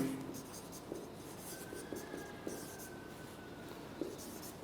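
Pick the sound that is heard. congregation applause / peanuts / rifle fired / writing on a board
writing on a board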